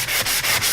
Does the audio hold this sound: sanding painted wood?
yes